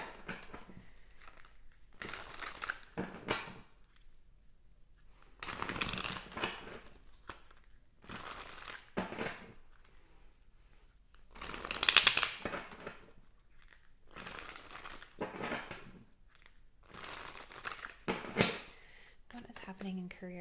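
Tarot cards are shuffled in bursts of crisp riffling and papery rustle, several separate handfuls spaced through the stretch with pauses between, close by.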